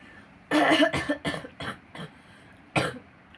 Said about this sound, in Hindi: हमारी लाडो चिड़िया को खांसी हो रही है